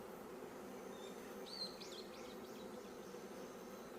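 Honeybees hum steadily around a beehive being inspected, a soft continuous drone with one or two brief closer buzzes of a passing bee, faint and without voices.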